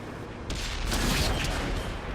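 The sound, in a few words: HE shell firing from FV215b tank in World of Tanks video game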